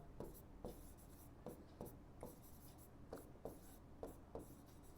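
Someone writes on a board during a Class 10 maths lesson on real numbers and the prime factorisation of 144. About ten quick scratchy strokes come in a steady rhythm, close and fairly quiet, with no talk.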